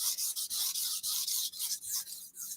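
A knife blade is drawn across a sharpening stone near the tip, making close, rhythmic hissing strokes in quick succession with short breaks between passes, and no voice over them.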